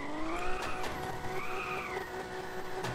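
In Car for Sale Simulator 2023, a car drifts with a sustained, wavering tire squeal rising and falling over a steady engine drone, fairly quiet and continuous with no talking.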